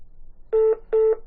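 Telephone keypad dialing tones: two clean, steady beeps of equal length with a short gap between them, loud and clear over a faint background hum.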